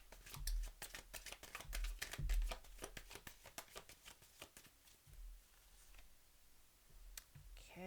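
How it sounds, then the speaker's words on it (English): Tarot cards are shuffled in quick riffling bursts, crisp flicks and soft clicks repeating close up, then settling into lighter taps and occasional card snaps. "I'm going to start out today with a quick shuffle"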